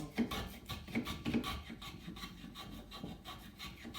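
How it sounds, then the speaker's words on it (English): Soft, quick rubbing and rasping strokes on wood as the corners of an archtop guitar build are trimmed, a close, quiet series of short scrapes. "I just trim it off a bit so it doesn't have these hard corners anywhere"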